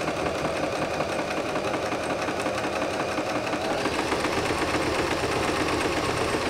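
A sewing machine hums steadily and continuously while stitching a fabric tube for a scrunchie, a dense, even mechanical drone held close and loud for several seconds with no talking.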